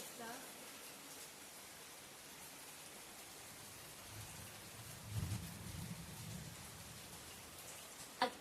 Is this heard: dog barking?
no